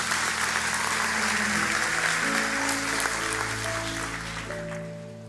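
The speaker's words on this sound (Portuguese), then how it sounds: "Dê um melhor aplauso," Congregation applauding in a church during an evening service, a dense steady wash of clapping throughout, with sustained organ or keyboard chords rising underneath and the clapping easing slightly toward the end.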